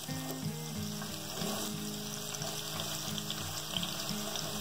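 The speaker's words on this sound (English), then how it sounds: "just add a couple pieces of that onion and you see how it's bubbling" Steady bubbling sizzle of onion pieces frying in hot oil, close and continuous, with faint clinks and stirring underneath.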